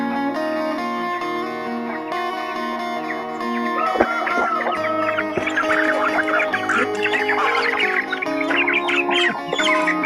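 Brahma chickens in a coop cluck and squawk repeatedly at close range, the calls growing busier and more overlapping in the second half, with no talk.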